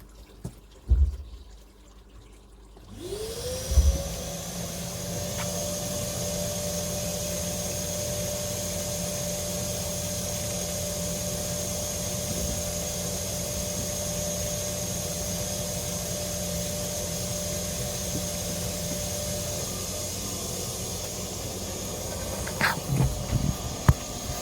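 A pond vacuum cleaner starts up after a couple of knocks and runs with a steady droning hiss and hum for the rest of the time, close by, with a faint click near the end.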